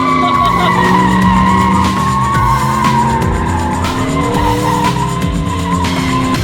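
Drift truck skidding, with a loud, continuous engine whine and tire squeal whose pitch sweeps up and down across the whole stretch, close and dominant, with no speech.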